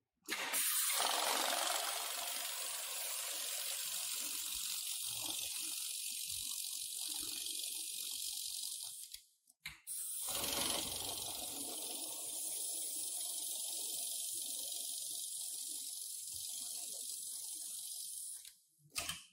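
A heavy-duty programmable electronic pattern sewing machine, the MLK500, runs in two long, loud, steady bursts of hissing, whirring mechanical noise, separated by a brief pause near the middle.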